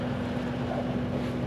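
A tractor engine labours at a steady low drone while pulling a heavy tillage implement through a field, continuous and fairly loud, with no voices.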